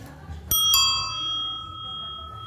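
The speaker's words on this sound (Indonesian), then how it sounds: "Nah ini bel sepeda." A bicycle bell fitted as the horn on a small engine-powered bicycle rings twice in quick succession, a sharp metallic ding followed by a long, clear, sustained ring that slowly fades.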